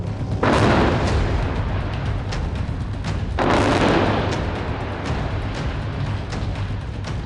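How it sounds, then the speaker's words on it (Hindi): Loud, heavy blasts boom out one after another at the Israel-Lebanon border, two big broadband bursts standing out around a continuous rumbling roar, close and powerful with no voices. "यहाँ पर आसपास बहुत तेज़ एक के बाद एक कई धमाकों की आवाज़ आई है"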